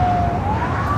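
LAPD police car siren rising in a steady tone near an airport, loud and continuous over traffic rumble throughout the short stretch.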